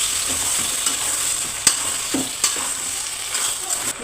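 Lemon pickle mixture with white lemon and kanthari chilli stirred steadily in a pan, a soft continuous scraping with light sizzling and a few sharper spoon clicks, close and alone.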